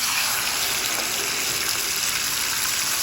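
Water pours in a steady, continuous rush into a pan of hot oil tempering, close and fairly loud.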